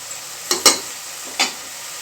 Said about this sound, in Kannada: ಹೀಗೆ ಚೆನ್ನಾಗಿ ಫ್ರೈ ಮಾಡ್ಕೊತಿದ್ದೀನಿ